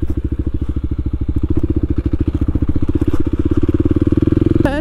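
A Kawasaki KLX300 dual-sport motorcycle rides along a trail, its single-cylinder engine thumping in a loud, fast, even pulse close by, with faint rattles over the top.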